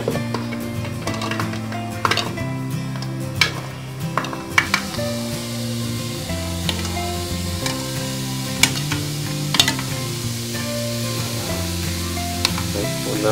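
Click beetles roast in a pan, giving a steady sizzle broken by sharp, scattered pops and crackles that land irregularly every second or so, close and fairly loud.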